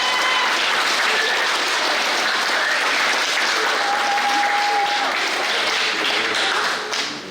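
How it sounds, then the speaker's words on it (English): A primary school graduation audience gives the girls a sustained round of applause after their performance, many hands clapping loudly and evenly before fading slightly at the end. "I think they deserve a tremendous round of applause for that performance"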